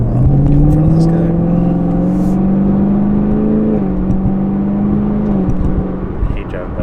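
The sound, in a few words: car driving past a semi truck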